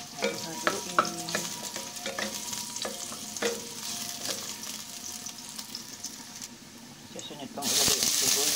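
Food stirred as it fries in a pan for a meatball and cabbage soup, with scraping taps over a steady sizzle that surges into a loud hiss near the end, voices faintly present.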